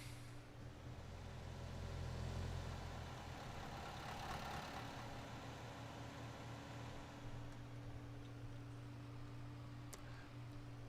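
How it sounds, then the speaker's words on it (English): Loud car traffic engines in a farming video game, a steady droning hum of engines passing and idling that swells early on and then holds at a constant level. "And those cars are loud."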